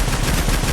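Rapid continuous automatic fire from an RPK light machine gun with a drum magazine in a Minecraft Bedrock mod, a dense unbroken burst of loud shots filling the short moment, with no voices.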